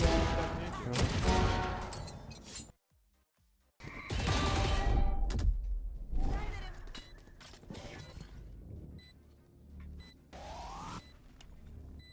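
Rapid gunfire bursts in the competitive shooter Valorant, with sharp repeated shots and impacts in several loud clusters, a brief silent gap, then more scattered shots and game effects.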